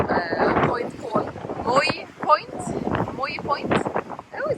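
Wind gusts across a seaside promenade at Mouille Point in Cape Town, a low rumbling buffet running under a person's steady talking.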